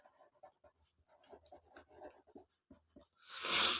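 Pen or pencil scratching on paper while writing out proof statements for a geometry congruent-triangles exercise, a series of short faint strokes ending in a louder, longer scribble.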